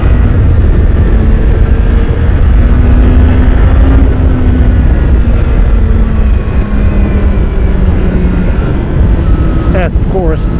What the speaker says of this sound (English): I want to ride it a little bit more in the higher rev area.